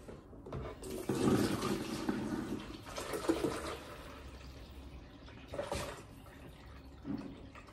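Water splashes and gurgles as it is poured into a home coffee maker, a close, rushing pour that swells, eases and returns in short bursts.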